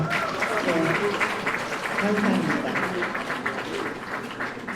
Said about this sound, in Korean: 여러분, 이런 윤상현 의원에게 다시 한번 박수 부탁드리죠.